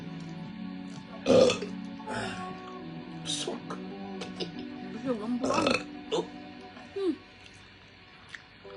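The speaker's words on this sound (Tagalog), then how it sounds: "Narinig yung dighay mo ay." A person lets out a loud burp after eating, followed by a few smaller belch-like sounds, with a voice speaking casually around them indoors.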